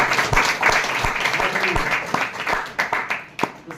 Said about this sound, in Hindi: यस, ताली देंगे हम।